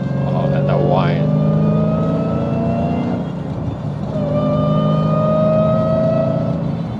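A car accelerates up an on-ramp, its engine drone joined by a rising whine that holds and climbs in pitch over steady road noise, loud and close.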